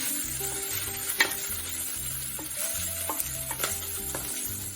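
Steady sizzling and frying of garlic and smoked paprika in a pan, with a few clinks and scrapes of stirring on top, no voices.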